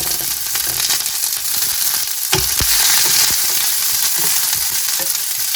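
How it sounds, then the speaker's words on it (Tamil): Spices tempering in a small amount of hot oil sizzle steadily and close, a continuous bright crackle with a few sharper pops and a clink of utensil around the middle, no voices. "கொஞ்சம் பொன்னுரமாக வர்ற வரைக்கும் நான் இதை வந்து தாளிக்க போகிறேன்"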